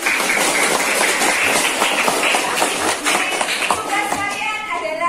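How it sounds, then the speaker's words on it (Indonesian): A classroom group bursts into applause together, a dense burst of clapping with voices and chatter mixed in throughout. "Tepuk tangan buat semuanya."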